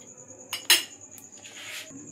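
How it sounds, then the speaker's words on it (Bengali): Chicken is being cut into small pieces, with a couple of sharp knife-on-board taps and clinks followed by a soft scraping rustle. A faint steady high hum sits in the background. "চিকেনগুলোকে আমি ছোটো ছোটো করে পিসে পরিণত করে নেব।"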